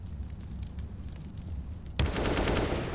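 Gunfire bursts out in Counter-Strike on the Vertigo map during a professional ESL Pro League match, a sudden loud volley two seconds in after a stretch of low, busy background rumble, continuing dense and rattling to the end.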